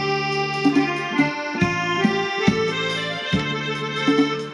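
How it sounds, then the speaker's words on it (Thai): A Yamaha PSR-450 keyboard set to an accordion voice plays a bouncy tune over steady bass and chord accompaniment, reedy and sustained, with no voices. "แอคโคเดียนครับ"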